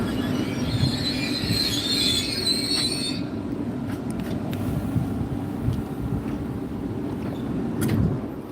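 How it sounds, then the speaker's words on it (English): A train runs along the rails with a steady loud rumble and high metallic wheel squeal during the first few seconds, then a continuous rolling roar. "So I'm going to take my train."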